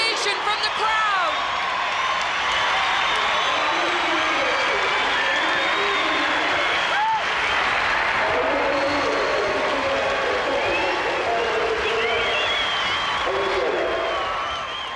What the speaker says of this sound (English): A standing ovation from the crowd!